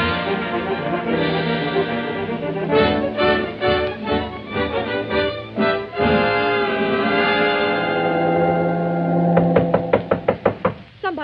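Knocking on a stateroom door as a radio drama sound effect, with clusters of sharp raps over a sustained music bed, ending in a quick loud series of knocks.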